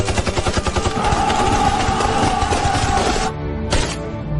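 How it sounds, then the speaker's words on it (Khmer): Sustained machine gun fire in a 1937-set war drama, a dense rapid rattle of shots layered with a loud battle din and music, cutting off near the end before a brief final burst. "កំភ្លើងយន្តសង្កត់មកវិញហើយ"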